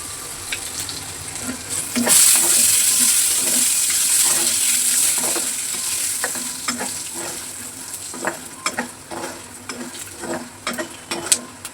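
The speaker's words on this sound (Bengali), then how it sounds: "এবার দিয়ে দেবো বাদাম, বাদামটাও একটু ভাজা হয়ে যাবে।" Peanuts fry in hot oil with whole cumin and cardamom in a pan. A loud, steady sizzle runs throughout, with close scraping strokes of stirring that grow more frequent toward the end.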